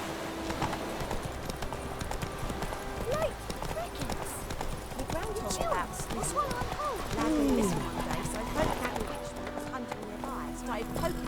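Roach the horse in The Witcher 3 clip-clops along at a steady walk, with hoof beats running under continuous game dialogue, music and ambient sound.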